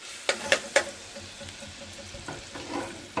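Garlic fries in oil in a pan, giving a soft steady sizzle with a few sharp clicks and knocks from stirring near the start.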